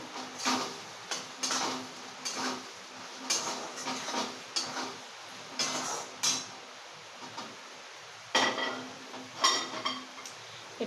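A pot of soybean curry with cashews, simmering and being stirred, giving intermittent close scraping and clinking of a spoon against the pot in irregular bursts over a quiet background, with no voices.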